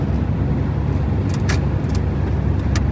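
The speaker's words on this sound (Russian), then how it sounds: "Вот сейчас мы едем 90 миль в час, это 140 километров в час." A Dodge Dakota V6 pickup cruises along a highway at about 90 mph, giving a steady, loud road and engine roar from inside the cab with a few brief higher-pitched rattles over it.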